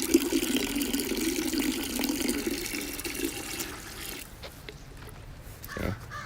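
Water pours steadily into a partly filled bucket outdoors, a continuous splashing gush for about four seconds that then thins to quieter trickling and drips, with a brief louder splash near the end.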